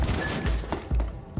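Overture revolver firing in the video game Cyberpunk: heavy booming shots at a slow, uneven pace, each with a deep low thud that fades into a short tail, loud and close.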